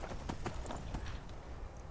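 Horse hooves clip-clop in the video game Skyrim as a borrowed horse is ridden near a farm, giving a quick run of close, evenly spaced hoof strikes on the ground, with no talking.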